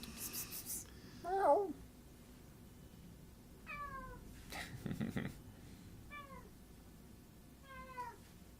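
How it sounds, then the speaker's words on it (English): A cat meows several times, short rising-falling calls spaced a second or two apart, close and fairly faint, with soft murmured human voice and light rustling between them. "Yep, that's a cat."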